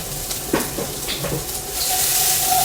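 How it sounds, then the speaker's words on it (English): Asparagus sizzles in hot oil in a pan after a dash of salt, a steady close hiss with a few faint clinks early and the frying noise swelling louder toward the end; no voices. "I'm just going to be throwing in our asparagus. You want to hear that sizzle?"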